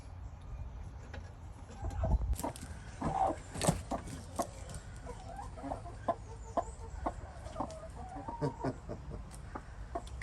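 A broody white-marked hen clucks softly close by, giving a scattered run of low grumbling clucks and short calls against a quiet background.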